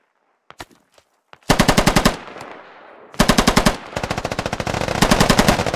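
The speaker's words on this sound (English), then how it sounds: "That's an MMG." Medium machine gun in the video game Squad firing long rapid bursts, loud and close, after a few scattered single shots.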